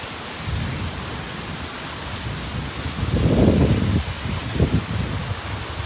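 Heavy rain pours steadily during a tornado storm near West Pensacola, a dense hiss throughout with a low gusty rumble swelling in the middle and again shortly after.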